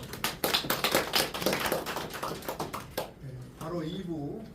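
A church congregation at a Korean Christian council candidates' event breaks into applause, rapid hand clapping for about three seconds before it fades and a voice begins speaking.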